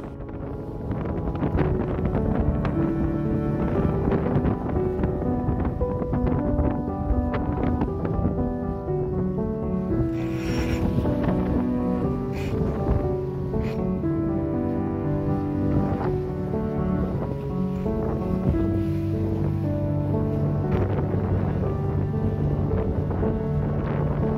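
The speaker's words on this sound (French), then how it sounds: "Nous avons beau être sous le vent, cela souffle quand même assez fort" Strong wind roars steadily across a sailboat at sea between Grenada and Ronde Island, a constant loud rush with flapping and rigging tones throughout.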